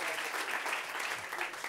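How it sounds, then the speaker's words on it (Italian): Comedy-show studio audience gives a short, dense burst of applause, a steady wash of clapping heard at moderate distance. "Teddy Maloscia, un applauso a Teddy Maloscia."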